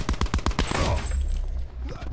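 Pistol gunfire in a Call of Duty match, a quick burst of sharp shots at the start followed by a busy, noisy battle mix.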